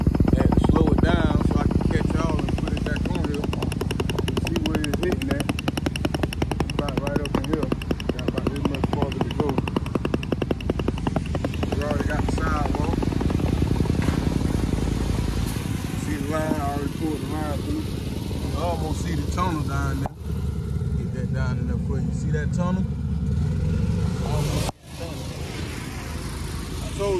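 A boring missile runs under a residential driveway for an AT&T fiber line, a continuous close mechanical drone and rattle with engine rumble that persists throughout and is broken by a couple of sharp knocks near the end.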